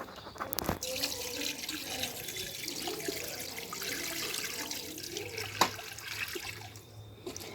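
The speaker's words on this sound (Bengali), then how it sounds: "তাই আমি একটা কিছু রেখে অথবা হাত রেখে এভাবে আমি জল দেব। একদম ভর্তি করে জল দেব।" Water poured steadily over a hand into a container of soil for growing lotus, giving a continuous close splashing flow with a few sharper splashes.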